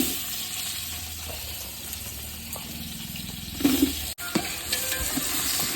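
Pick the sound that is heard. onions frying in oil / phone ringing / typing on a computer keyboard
onions frying in oil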